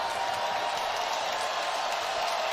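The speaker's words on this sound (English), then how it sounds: "This crowd getting back into it on 2nd and 10" Stadium crowd at an Old Dominion vs Bowling Green college football game, a steady broad roar of cheering and noise throughout, fairly distant and even.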